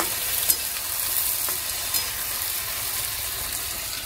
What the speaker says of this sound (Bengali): এই যে আমের চাটনির জন্য আমটা কষিয়ে নিচ্ছি